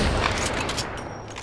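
Gunfire in Apex Legends comes as a string of rapid, close, loud shots, a dense crackling volley that fades slightly toward the end, with no talking.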